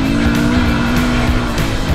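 A rally car on the final stage of a 1000 Dunas desert rally, its engine held at a loud, steady high-rev drone while crossing sand dunes, heard close up from inside the car with no talking.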